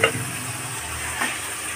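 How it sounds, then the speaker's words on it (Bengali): Whole spices (bay leaf, dried red chilli and cumin) hit hot mustard oil with a sharp sizzle at the start, which eases into a steady fry with a second brief flare near the end. "তেলেই আমি ফোড়নগুলো দিয়ে দিচ্ছি এক এক করে।"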